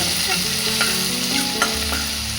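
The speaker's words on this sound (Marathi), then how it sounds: "अद्रक लसूणची पेस्ट छान परतून घ्यायची." Ginger garlic paste sizzles loudly in hot oil while being sautéed, a continuous close frying hiss with a few light scrapes from stirring and no voices.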